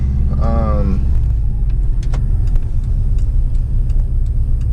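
A 2005 Subaru fitted with a Cobb V3 tune and a tightened wastegate, engine not yet fully warm, rumbles steadily while driving, a low continuous drone throughout, with a brief voice near the start.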